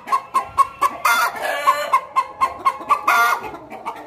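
Free-range chickens on a Punjab farm cluck in a steady series of close, short, repeated calls, with a couple of longer, busier bursts of fowl noise between them and no talking.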